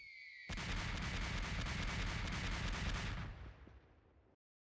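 Missile barrage ability in the SCP Tower Defense video game firing as a dense, loud volley of rapid blasts and rumbling impacts lasting about three seconds, then tailing off into fading echoes.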